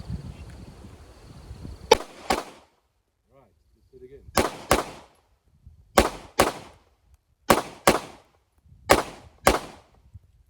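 A handgun at a shooting range fires sharp double-tap pairs, four or five pairs of two quick cracks each separated by pauses, close and loud. Brief faint talk precedes the first shots.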